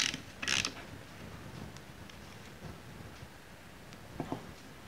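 Metal bolt being snugged down onto a lock washer on the side of an engine case during assembly, a few faint mechanical clicks and creaks with quiet handling noise in between.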